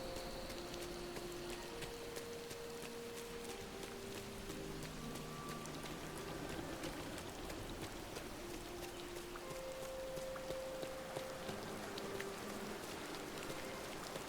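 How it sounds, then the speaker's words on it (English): Rain falls steadily in Disney Dreamlight Valley during farming and mining, a soft continuous patter of drops under light, melodic game music tones. "I love that the clouds are gray because it's raining."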